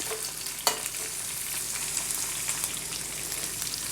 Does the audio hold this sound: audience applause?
no